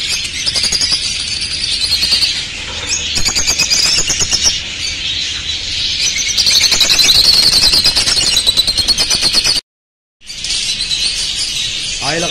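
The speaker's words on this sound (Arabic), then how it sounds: "هاي الاقفاص بيها طير حوض ابيض بعيون الحمر" Many small caged birds at a Baghdad bird shop chirp rapidly together in a dense, continuous chatter, close and loud, with a short break near the end.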